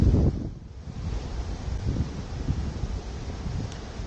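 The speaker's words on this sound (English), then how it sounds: "typical, it's getting windy" Wind gusting outdoors near a waterfall in the Lake District, a steady broadband rush with a strong buffeting burst at the start, then continuous blustery noise across the microphone, no voices.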